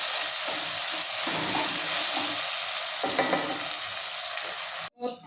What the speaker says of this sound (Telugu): ఇవి కొంచెం బాగా అల్లం వెల్లుల్లి పేస్ట్ పచ్చివాసన పోయేదాకా వేపుకుంటే